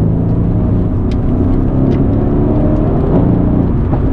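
Mercedes C63 AMG engine pulling hard to overtake, a loud, steady close-up roar with wind and road rumble that holds for several seconds without a break.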